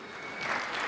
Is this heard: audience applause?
yes